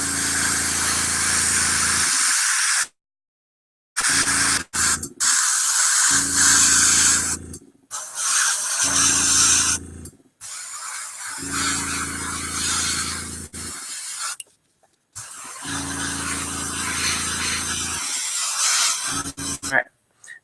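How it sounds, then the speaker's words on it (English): An airbrush sprays paint onto a model in repeated bursts of a few seconds each, a steady airy hiss broken by short pauses, close and fairly loud with no talking. "we're going to continue with the rest of the airbrushing step"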